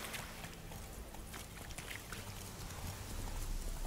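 A water horse from The Witcher 3 rising out of the sea, with splashing water and hoof-like clip-clop thuds over steady surf noise, fairly faint and continuous.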